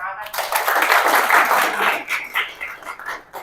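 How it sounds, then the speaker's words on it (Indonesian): A classroom of students claps together, a short burst of hand clapping that builds quickly and then fades into scattered claps. "Tepuk tangan."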